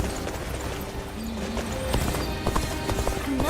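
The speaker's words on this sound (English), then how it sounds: "One day while on a march, Lord Cao Cao's horse suddenly started to act up." A horse in the Dynasty Warriors: Origins video game, on the march and acting up, clops its hooves steadily over a dense bed of game music and ambience, with a faint whinny inside the mix.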